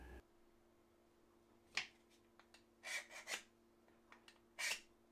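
A Mora knife blade drawn through a knife sharpener to freshen its edge, giving a few short, quiet rasping strokes separated by pauses.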